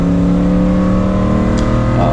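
A first-generation Toyota 4Runner engine rumbles steadily at high revs through turbo mufflers with a deep, throaty exhaust drone, close and loud.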